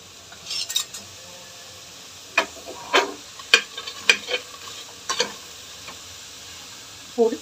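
Ingredients for a beef curry being sautéed briefly in a pan, with a low sizzle under scattered spoon scrapes and clinks that come in short bursts, close by and fairly quiet.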